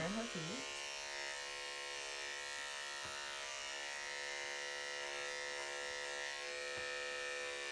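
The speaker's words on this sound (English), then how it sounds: "Now I will shave her paw pads, reveal her little baby teddy bear and her feet." Electric clippers buzz with a steady, close hum while shaving a dog's paw pads at a grooming session, holding an even drone throughout with a few faint taps.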